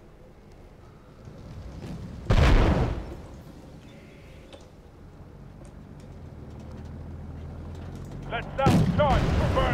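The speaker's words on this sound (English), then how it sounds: "There's Shilka firing at us." A Shilka anti-aircraft gun fires in the tank battle game Wargame AirLand Battle: two loud, sharp cannon bursts several seconds apart over a low engine rumble and mechanical clatter, with voices giving short commands in between.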